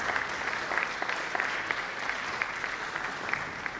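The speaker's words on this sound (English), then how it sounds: "I think he deserves a warmer round of applause." Audience at an international environmental sciences conference applauding, a steady wash of many hands clapping at moderate distance that sustains evenly throughout.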